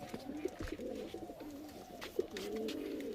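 Pigeons in a loft of Lalmon flying pigeons coo steadily at close range, low rolling calls overlapping through the clip with a couple of sharper notes, no talk over them.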